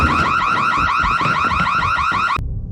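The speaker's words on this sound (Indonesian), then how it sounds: "alarm asap di dapurnya telah berbunyi" A kitchen smoke alarm blares loudly and continuously in a steady, rapidly warbling electronic tone, then cuts off abruptly near the end.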